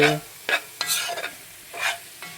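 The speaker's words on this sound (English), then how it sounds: "The beef, fry it up slowly. Get the moisture out. Stir fry. Low heat sear." Vegan ground meat is stir-fried over low heat in a pan. Several distinct scraping stirs sound over a faint, soft sizzle, close by and with no voices.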